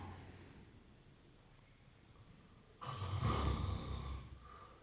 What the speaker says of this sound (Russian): А этот сосед храпит.